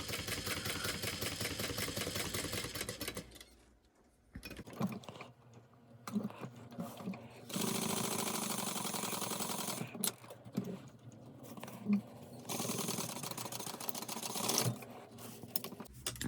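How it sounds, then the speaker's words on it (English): A sewing machine top stitching fabric on a custom pack runs in several steady bursts separated by quiet pauses, moderately loud and close, with no talk. "got my machine thread, and I'm going to go ahead and start here at the bottom."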